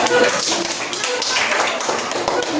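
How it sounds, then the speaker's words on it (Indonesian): Students in a classroom applaud a group after its presentation: a steady, dense patter of clapping hands fills the room, fairly close and continuous, with some voices mixed in. "Beri tepuk tangan untuk kelompok."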